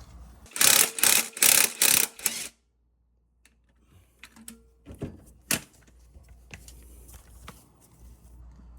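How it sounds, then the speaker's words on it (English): A ratchet cracks loose transmission mount bolts on a second-generation 2002-2006 Honda CR-V during a clutch replacement, heard as a close burst of rapid clicking strokes followed by quieter scattered clicks and knocks. "we'll crack the 6 bolts"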